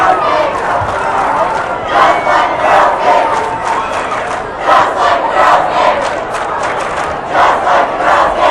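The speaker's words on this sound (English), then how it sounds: "it is fun to cheer when you're in the student section" A student section roars and chants at a high school basketball game, a dense, loud crowd noise with rhythmic surges and yells that rise and fall over several seconds.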